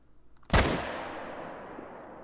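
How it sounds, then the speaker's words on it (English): A single loud rifle shot rings out at a level 3 bighorn sheep in the Call of the Wild hunting game, followed by a long, fading echo that rolls away over about two seconds. "I'll just be shooting this level 3 bighorn"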